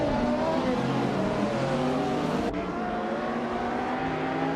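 Race car engines in an AI car racing video game, a steady loud drone of several engines with shifting pitch whines, one car swelling and fading past midway.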